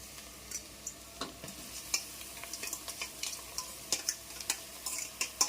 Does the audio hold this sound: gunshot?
no